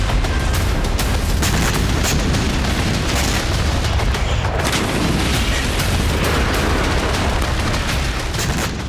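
Continuous loud booms and sharp cracks of explosions and gunfire from Israeli military strikes in Syria, in rapid, irregular succession, dense and chaotic throughout.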